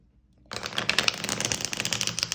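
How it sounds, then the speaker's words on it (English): A deck of oracle cards is riffle shuffled, a dense burst of crisp flapping card riffles that starts abruptly after a brief silence and runs steadily to the end, close and fairly loud with no talk. "I can get quite a nice rifle shuffle out of that."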